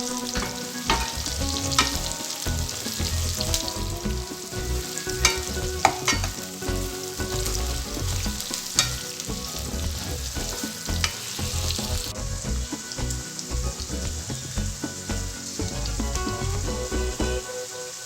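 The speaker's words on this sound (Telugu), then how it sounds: "ఉల్లిపాయ ముక్కలు మగ్గిన తర్వాత సొరకాయ ముక్కలు వేసుకోవాలి." Bottle gourd pieces and onions fry in a pan for a Telugu dal, giving a steady, close sizzle with bubbling and crackling and occasional stirring scrapes throughout.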